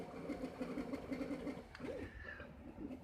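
A 3D printer printing a turbine stator, its stepper motors making a rhythmic whirring, pulsing mechanical hum at moderate distance in a quiet room, with no speech.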